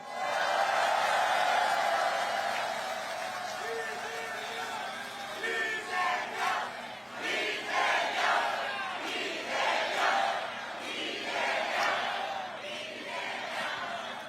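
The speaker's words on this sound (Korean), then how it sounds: "옆에 계신 동지들에게 박수 한번 보내주세요" A large crowd at an outdoor political campaign rally cheers and shouts loudly, with clapping blending into the roar and voices rising and falling throughout.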